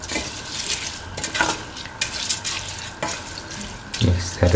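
Washed, soaked rice is stirred into a wet potato, green pea and coconut mixture in a pot, giving a continuous watery sloshing and scraping with a few louder spoon knocks.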